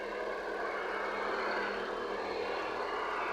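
A Maserati engine runs at a steady idle while being checked for overheating, producing a close, continuous hum and whir that holds level throughout with no voices.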